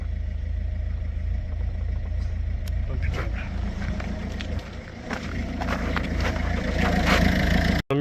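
A Citroën C4 Picasso engine, under repair for catalytic converter and particulate filter cleaning, runs loud and close with a steady low drone that swells as it revs up, then cuts off abruptly at the end.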